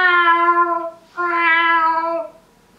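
A person imitates a cat at a talent class teaching animal-sound mimicry, giving two close, drawn-out nasal meows separated by a short pause.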